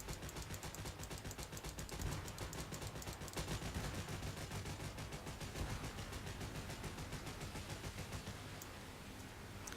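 Automatic gunfire in a War Thunder naval battle, a long run of rapid, evenly spaced shots from ship guns firing continuously, dense and rhythmic, heard fairly faint and distant throughout.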